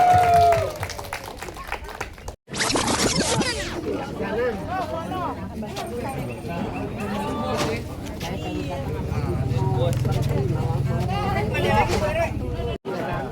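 A short burst of audience applause breaks out at a neighborhood gathering on household waste sorting in RW 04 Kebon Melati, then gives way to loud crowd chatter and overlapping voices.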